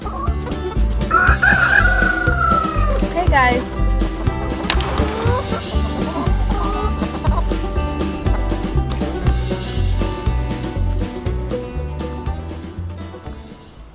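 Backyard chickens in a no-till permaculture garden peck at raspberries, giving busy, close clucking with a rooster-like crow early on. A person briefly speaks.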